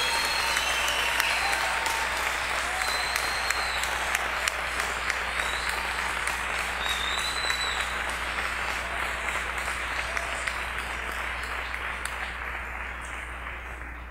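A church congregation applauds continuously in a long, even roar of clapping, with occasional whistles rising above it and a low steady hum beneath, gradually easing toward the end.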